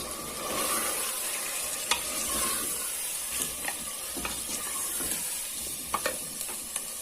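Tomato paste and spices being stirred into a sizzling masala for a Punjabi handi, a steady close frying sizzle broken by scattered clicks and scrapes of the stirring spoon, with no talking.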